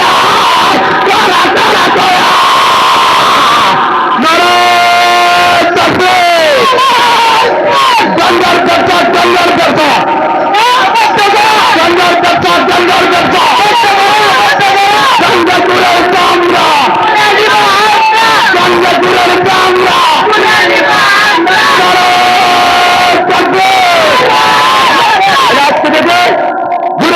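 Large crowd shouting in unison in response to a Nara-e-Takbir slogan at a religious rally, loud, dense and sustained across the whole stretch with repeated swelling chant phrases and babble.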